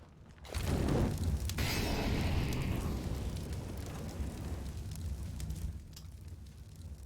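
A CS:GO grenade goes off with a loud, sudden blast, then a rushing, crackling rumble slowly fades away over several seconds, and no one speaks.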